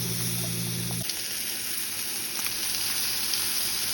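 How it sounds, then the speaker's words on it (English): Stuffed chicken breast cooking on a grill, giving a steady close hiss and crackle of sizzling fat that runs continuously, with a low hum briefly audible at the start. "It's got a nice sizzle going."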